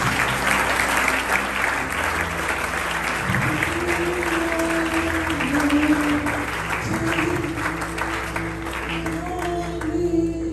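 A church congregation applauds during a worship service, sustained loud clapping from many hands filling the room while a held musical tone plays underneath.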